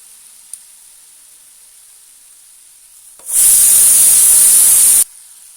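Bananas cooking in a covered pan give off a sudden loud burst of sizzling hiss. It lasts under two seconds after a quiet stretch, then cuts off abruptly.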